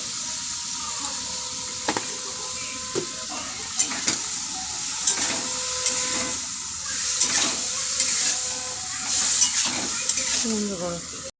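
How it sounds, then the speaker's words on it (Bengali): Carrot and beans fry with salt in a pan, giving a continuous loud sizzle punctuated by regular scraping strokes of a stirring spoon, close by and with no speech. "লবণ দিয়ে ভাজা বসিয়ে দেবো।"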